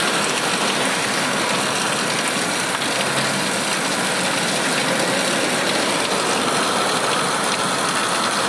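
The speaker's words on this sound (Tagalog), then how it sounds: "Sabi mga kaibigan, naabutan sila mga kaibigan na lakas ng ulan" Heavy rain drums steadily on a car stuck in traffic, a dense, constant patter with a low engine idle underneath and no voices.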